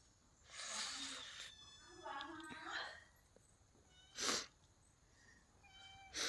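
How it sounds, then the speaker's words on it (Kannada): A cat meows several times while traditional masala spice powder is being prepared at home. The meows are drawn out and rise and fall, heard fairly close against a quiet background. "ಬೆಕ್ಕು ತಿಂಡಿ ಅಂತ ಹೇಳಿ ಕಾಯ್ತುಂಟು."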